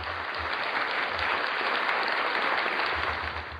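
Steady, even applause from an audience, a continuous dense wash of clapping at moderate level with no voices over it.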